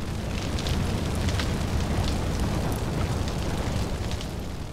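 A base burns in the video game Far Cry 4, Valley of the Yetis, with a loud, continuous crackling roar of fire and dense rumble that stays steady throughout, heard alone without talk.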